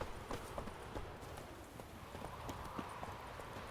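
A horse in The Witcher 3: Wild Hunt video game clip-clops with steady, evenly paced hoofbeats at moderate distance over a soft ambient game background.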